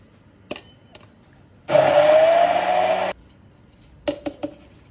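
An immersion blender purées cooked spinach with a ladle of boiling water in a mini chopper beaker, one loud whirring burst of about a second and a half between light clinks of handling.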